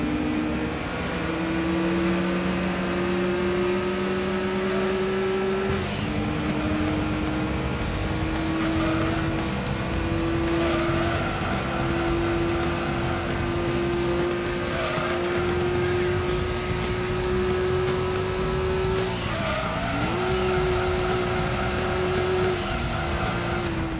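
A race car engine roaring steadily in the Gran Turismo driving video game, its loud whine holding one pitch and climbing slowly, with a brief drop and recovery as the car shifts, and tire noise underneath throughout.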